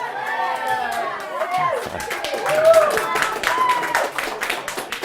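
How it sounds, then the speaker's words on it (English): An audience claps and cheers at a gathering, with steady rhythmic clapping mixed with excited voices and whoops throughout, moderately loud and sustained. "You clap, you cheer, you say I'm ready for it."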